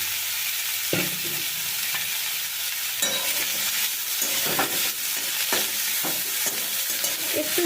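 Chopped potato and eggplant sizzle in hot oil with panch phoron spices, a constant bright frying hiss broken by repeated scraping and stirring of the spatula against the pan.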